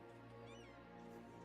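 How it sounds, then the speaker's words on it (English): A cat meows faintly indoors, a single soft call over a quiet steady background hum. "you said meow, but meow does not mean you're going to get inside"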